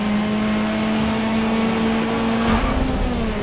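A race car in the racing game Grid Autosport accelerating, a loud steady engine drone climbing in pitch with a gear-change surge near the end, no speech heard.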